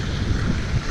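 Steady wind buffeting a microphone while riding a bicycle, a loud continuous low rumble with no pauses or voices.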